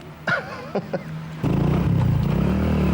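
A motorcycle pulls up and its engine settles into a loud, steady rumbling idle close by, after a few short clattering sounds.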